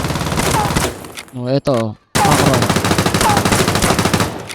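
Rapid automatic gunfire from a dual TMP in the mobile shooter Knives Out, loud and dense, a long burst that cuts out briefly and resumes as a steady stream, with a short spoken word in the gap.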